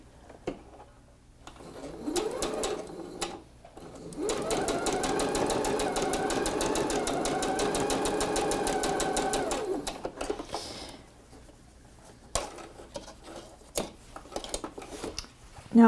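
A sewing machine stitches quilt fabric pieces for a six-pointed snowflake table runner, a steady whirring run of about six seconds preceded and followed by quieter handling clicks and short bursts.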